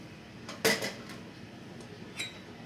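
A metal spoon clinks against a teapot while loose tea leaves are added for mint tea, giving a couple of sharp clinks followed by a few fainter taps, close and otherwise quiet.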